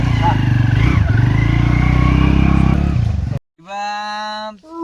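A motorcycle engine drones steadily nearby for a few seconds, then cuts off abruptly, followed by a brief tonal sound.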